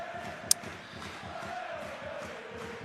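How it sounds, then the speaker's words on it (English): A football crowd in the stadium at Coventry City versus Wrexham keeps up a rhythmic chant with a steady pulsing beat, heard at a distance, with one sharp click near the start. "The crowd on their feet having a fantastic time here."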